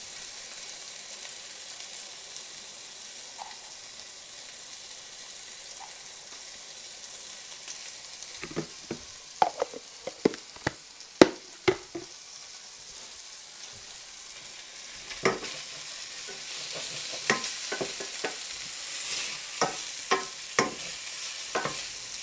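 Steady frying sizzle of chicken thigh in a pan on an electric stove, with a series of sharp crackles and pops clustering midway and again near the end.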